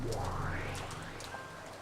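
Steady rain in the Umineko: When They Cry visual novel, a continuous soft hiss with scattered drop-like ticks, while a low tone rises and fades beneath it.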